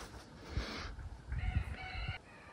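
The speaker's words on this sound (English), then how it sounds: "She's a Toulouse goose." A Toulouse goose honks and calls in a few loud, raspy bursts, fairly close, with soft rustling in between, on a farm in Normandy, France.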